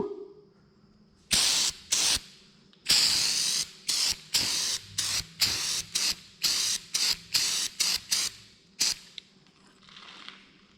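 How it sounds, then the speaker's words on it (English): A spray can of green Sparex tractor paint fires a long hiss followed by a quick series of short, sharp spray bursts at a close, steady rhythm, with no other sounds. "Must have been that nozzle, because boy, it's coming out of here fast now."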